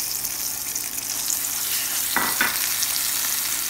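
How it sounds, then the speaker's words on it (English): Boiled sweet potato sizzles and fries in a little oil in a hot pan, a steady close crackle with a couple of brief stirring scrapes. "Now heat the pan and add little bit oil. Add the sweet potato,"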